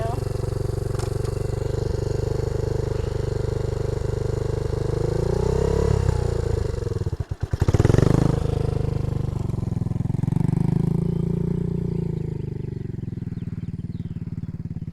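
A motorcycle engine idles and revs low and steady close by as a rider practises slow, tight turns in a grassy field, with a brief disturbance midway and people talking over the motor.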